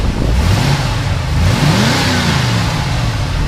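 A 1973 Ford F350 Super Camper with a 390 FE V8 revs up from idle, the loud, near engine note swelling and climbing in pitch, then easing back down with a steady throaty rumble.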